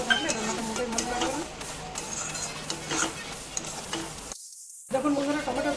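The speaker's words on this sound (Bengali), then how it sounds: "এরপর খুব ভালো মতো কষিয়ে নিচ্ছি।" Spice paste with tomato, chili and turmeric powder frying and being stirred in a pan for chicken curry, a steady close sizzle with scraping stirs, a brief dropout near the end, and a voice talking over it.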